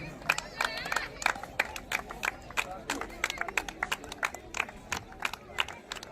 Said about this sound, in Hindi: तालियां बजा दो भाई बार जोरदार से।